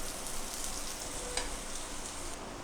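Raw banana pieces coated in masala fry in a pan over medium heat, a soft, even sizzle with a light crackle and one small clink partway through.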